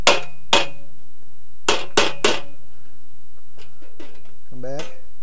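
Sharp metallic hammer strikes ring out against a dolly on the steel grill of a Willys MB Jeep under restoration, five loud clanging hits in two quick bursts, with a brief voice near the end.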